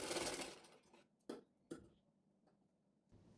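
A domestic sewing machine stitches ready-made piping along the edge of a blouse back neck, giving a faint opening whir followed by a few scattered mechanical clicks and taps in a quiet room.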